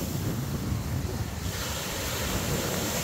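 Sea surf rolling onto the beach at Teluk Cempedak, Kuantan, a steady broadband wash of waves with wind buffeting the microphone, continuous and fairly loud throughout with no talking.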